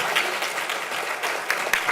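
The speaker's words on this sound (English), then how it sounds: "Let's give him one more round of applause" Audience applause at a high school scholarship recognition during a committee meeting, steady dense clapping throughout with a few sharper individual claps standing out near the end.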